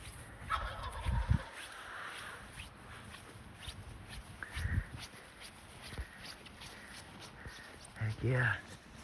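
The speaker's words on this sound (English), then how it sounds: "That other turkey is still fighting him." Wild turkeys gobble and scuffle during a hunt, with several loud, rattling gobble bursts spaced a few seconds apart over rustling and movement while people talk in the background.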